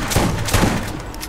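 Gunfire from a gun in Borderlands, a short, loud burst of a few rapid thumping shots fading out quickly.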